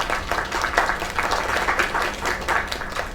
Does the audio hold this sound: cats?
no